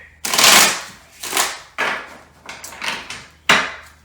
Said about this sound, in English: I'm going to give them 2 more shuffles